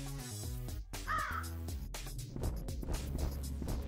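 Crow cawing in the Roblox BedWars video game: one clear caw rises over busy game music and effects, with no talking.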